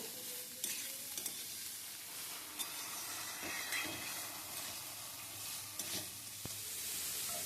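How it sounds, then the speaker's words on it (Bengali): Grated carrots for gajar halwa being stirred and fried in a pan, a continuous soft sizzle with repeated scraping and stirring strokes, no talking. "গাজরটা একটু ভাজা ভাজা করব"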